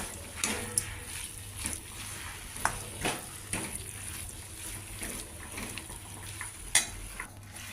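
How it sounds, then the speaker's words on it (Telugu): Spoon stirring a brinjal, sweet potato and tomato mash curry with chopped coriander in a pan, faint scraping and soft clinks against the cookware, irregular and close, with no talk. "ఇప్పుడు ఇందులో చిన్నగా కట్ చేసిన కొత్తిమీర వేసుకోవాలి. వేసుకుని ఇది కూడా మిక్స్ చేసేసుకుని సర్వింగ్ బౌల్లోకి తీసుకోవాలి."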